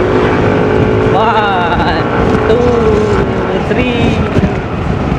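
A Yamaha NMAX Tech Max scooter engine revs steadily in manual paddle-shift mode, its pitch climbing in a couple of rising sweeps, fairly loud and close, with wind rumble and a brief voice over it.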